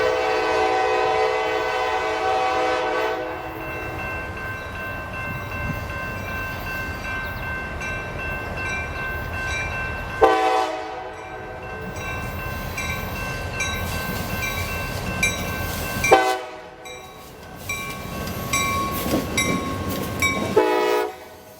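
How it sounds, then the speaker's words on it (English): A CSX freight train hauling a few covered hoppers rolls past, with long blasts of its horn sounding over a steady rumble and rail clatter, close and loud. "CSX 2680 trundled by with a few covered hoppers"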